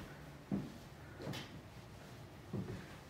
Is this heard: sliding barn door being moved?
yes